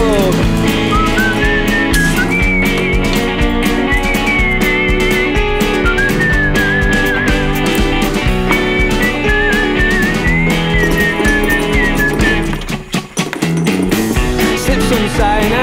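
A melodic human whistle carries a tune over a full band backing, sustained and clear through most of the passage before a brief dip near the end.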